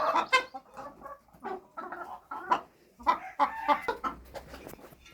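Several farmyard chickens cluck in a busy, overlapping chorus close by, with irregular bursts and a faint low rumble underneath, no talking.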